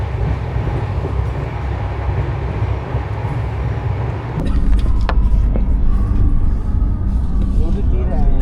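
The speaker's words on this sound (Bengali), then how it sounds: "ট্রেন এইভাবে চলছে দেখে আর কন্টিনিউয়াসলি কিন্তু এইভাবেই যাচ্ছে" The Shalimar–Puri weekly superfast express runs through the night with a steady, loud rolling rumble of wheels on track that grows heavier and rougher partway through, heard from inside the carriage.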